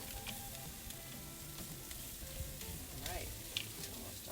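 Galbi beef ribs with sugar and honey sizzle on a grill, a steady quiet hiss and crackle with faint scattered pops, low in level.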